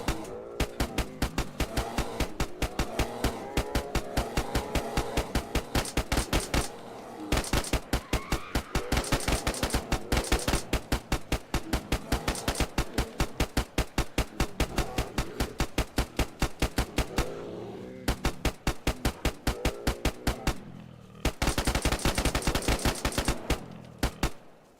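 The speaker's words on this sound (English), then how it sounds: "This is just a point of just shooting like crazy." Nonstop automatic gunfire rattles through a DayZ firefight in a survival city, dense rapid shots in long unbroken bursts with only brief pauses, loud and close throughout.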